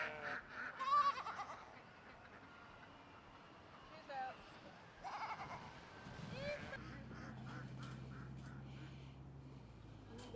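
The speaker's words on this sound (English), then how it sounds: "Listen to these ducks. They're talking out loud." Ducks quack and honk in a faint, scattered chorus outdoors, a few louder calls early then softer chatter, with a low steady rumble underneath and people talking.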